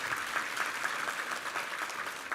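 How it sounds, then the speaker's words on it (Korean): Church congregation applauding during a Sunday worship service, a steady, fairly faint wash of many hands clapping with no voices over it. "우리 하나님께 감사와 영광의 박수 올려드리겠습니다."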